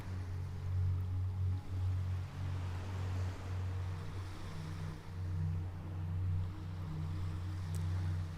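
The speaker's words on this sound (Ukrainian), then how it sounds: "Плавні морські хвилі." Gentle ocean waves on a sunny day far out at sea wash in a steady, soft hiss beneath a low, continuous droning hum like a boat engine. No voices are heard.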